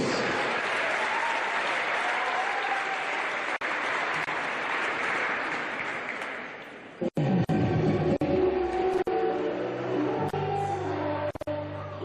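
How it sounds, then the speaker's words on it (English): Sustained applause from a stadium crowd at an under-20 Premier League grand final, a steady dense roar of clapping for about seven seconds before it breaks off, leaving nearby sounds and a few scattered claps. "can we please have a round of applause for all the players and officials?"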